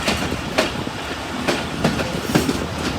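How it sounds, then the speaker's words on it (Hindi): The Chenab Express rolls into Banna Mianwala railway station in Pakistan, its wheels giving a steady rhythmic clickety-clack over rail joints amid a continuous rumbling carriage noise heard from on board. "अब चनाब एक्सप्रेस पहुँच गया बन्ना मियाँ वाला रेलवे स्टेशन पर।"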